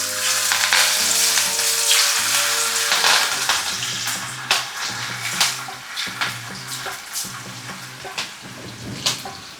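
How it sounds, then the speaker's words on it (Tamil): Masala-coated fish frying in hot oil, a steady loud sizzle with bubbling crackle throughout, joined partway by intermittent clinks and stirring sounds from a pan. "இப்போ இந்த மீனை போட்டு பொரிச்சு எடுத்துருவோம்."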